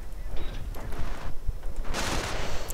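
Bursts of BAR automatic rifle fire in a WWII strategy video game, rapid cracking shots layered over a dense battle din, with louder clusters near the end.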